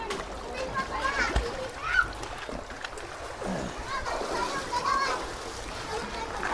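Sea water splashes at Panoypoy Beach, a rocky shore, with sloshing and scattered splashes close by while people talk and a voice is heard over it.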